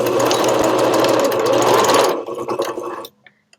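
A sewing machine in need of service stitches a small fabric pouch, running loud and steady for about two seconds before slowing into a few short bursts and stopping.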